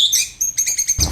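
A white-rumped shama (murai batu) sings up close and loud, a run of bright, high whistled phrases and chirps with a brief pause near the start, alone with no voices.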